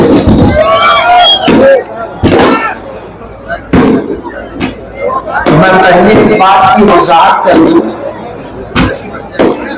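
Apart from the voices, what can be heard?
firecrackers going off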